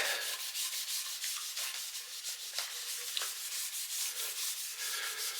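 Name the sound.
rubbing oil finish into a telecaster kit guitar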